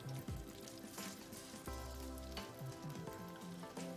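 Tofu fritter batter fries in hot oil with a steady close crackling sizzle and scattered sharper pops, quiet and alone without talk.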